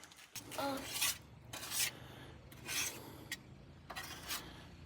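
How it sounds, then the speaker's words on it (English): Repeated bursts of scraping as grease is cleaned off an engine with Purple Power degreaser while rebuilding a 5.0L V8 for a 1986 Ford F150, with several rough strokes close by and a faint voice in the background. "Scraping off all of this grease. Getting it cleaned up with the purple power."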